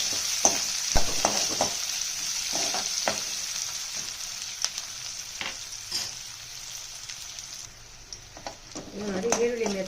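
Sliced onions sizzling in a hot pan for a brinjal tomato gojju, a steady bright hiss with occasional stirring clatters and scrapes, while someone talks over the cooking.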